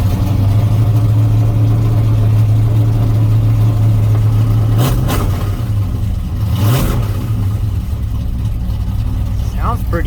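A cammed, rusty 1977 Chevy K10 truck engine runs off a boat fuel tank just after starting, with a loud, close, rough idle that blips and revs briefly twice before settling back to a steady lumpy rumble.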